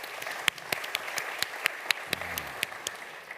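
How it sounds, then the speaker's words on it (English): Scattered clapping from a summit audience, steady and moderate with a few sharper claps standing out, no voices over it. "Let's give him another round of applause"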